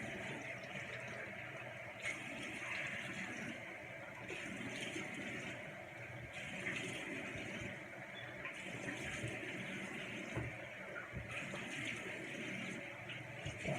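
Water runs from a tap while a face is rinsed, a soft steady splash with rhythmic surges as hands scoop and splash, heard fairly quietly in a small room.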